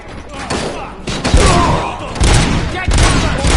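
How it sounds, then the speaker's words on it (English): Rapid bursts of gunfire and heavy thuds erupt in the video game RoboCop: Rogue City, loud and close, coming in several dense volleys separated by brief lulls. "Am I hearing gunshots?"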